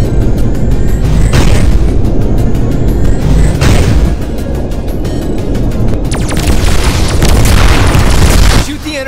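Energy bombs exploding in the Voltron VR Chronicles game on PSVR, a dense, continuous roar of loud booms and crackling blasts that never lets up, with a few sharp bursts near the end.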